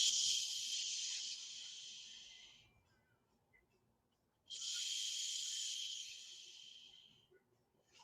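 Two long, forceful hissing exhales through the mouth during a seated yoga twist, each several seconds long and fading gradually, separated by a quiet pause.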